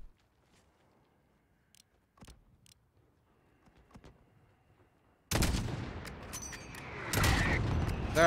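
Explosions from a mortar strike in Call of Duty: Modern Warfare, on PC, set across a highway: a loud, broad roar erupts after a quiet stretch of faint clicks, followed by a second heavy blast and a rumbling tail.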